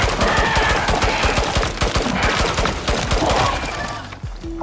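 Rapid automatic gunfire in the video game Icarus, a dense stream of sharp shots fired in long close bursts that ease off near the end.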